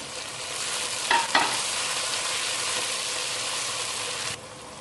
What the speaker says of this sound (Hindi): एक मिनट के लिए भूनेंगे। अब इसमें टमाटर शामिल करेंगे